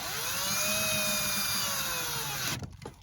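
A power tool drives screws into a scrap-wood pantry cabinet, its motor whining loud and steady with rising and falling pitch before cutting off near the end, leaving faint rattling. No talking.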